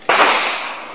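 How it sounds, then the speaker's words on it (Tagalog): A single sharp gunshot-like bang at a historic site in Angono-Binangonan, close and loud, with a sudden onset that fades into a brief echoing tail, alone with no talk. "Baril."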